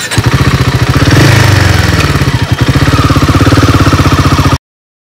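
A Royal Enfield Himalayan motorcycle runs on a cold mountain road toward Sela Pass, its single-cylinder engine thumping loud and close in a fast, steady pulse that swells briefly before settling, with no voices, then cuts to silence.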